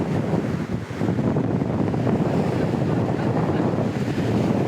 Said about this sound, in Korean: 이 미친 바람과 너울과 파도와 한번 싸워보도록 하겠습니다.